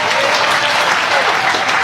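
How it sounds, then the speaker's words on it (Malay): A crowd at a political rally in Tasek Gelugor breaks into loud, dense applause, many hands clapping at once in a brief, steady burst. "Tepuk tangan."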